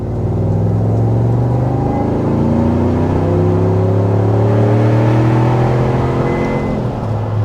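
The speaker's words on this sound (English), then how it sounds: "hopefully give you a little bit of a decent exhaust clip" A 2026 Chevrolet Tahoe Hennessey SUV accelerating moderately on a road, its exhaust giving a loud, deep, steady rumble whose pitch climbs gradually as revs rise.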